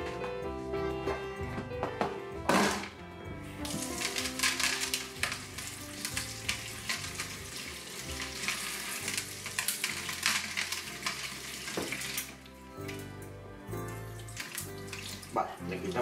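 Salmon pieces are rinsed in running water, a steady broadband splash and trickle of tap water with clinks of handling continuing throughout, fairly close and without talk.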